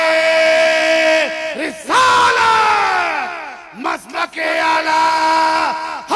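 A large crowd at a religious gathering shouts back in a loud, unified chant in response to the Naara-e-Takbeer call, with two swelling bursts of massed voices separated by a short lull.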